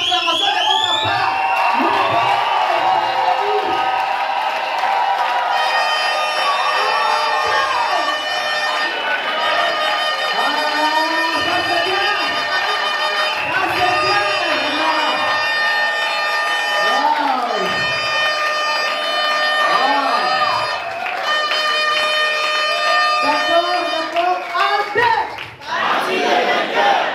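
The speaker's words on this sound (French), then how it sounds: "je voudrais entendre le vive acclamation de votre part" A large crowd roars and cheers continuously, with shouting and a steady high-pitched tone ringing through the noise.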